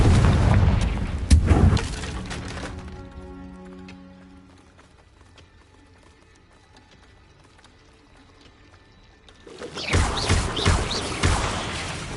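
A Confringo blasting spell goes off in Hogwarts Legacy, a sudden loud magical boom with crashing debris that dies into a quiet, ringing tail, followed by a second burst of rumbling impact sounds.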